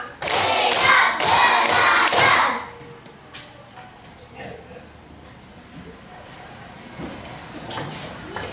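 A class in a school lesson claps in a counted pattern, a few loud, sharp bursts of group claps near the start, then sparse scattered taps and quieter room sound.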